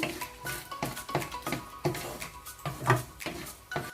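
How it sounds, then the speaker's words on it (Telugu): Dry fruits roasting in a pan for kiwi fruit halwa, with rhythmic scraping and clattering as they are stirred and tossed. The strokes come close and fairly loud, with almost no talk. "ఈ విధంగా డ్రై ఫ్రూట్స్ని రోస్ట్ చేసుకోండి"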